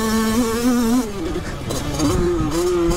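A Derbi 50cc two-stroke moped engine revving hard against its rev limiter, a loud, steady buzzing whine with wavering pitch that cuts and stutters partway through, heard up close.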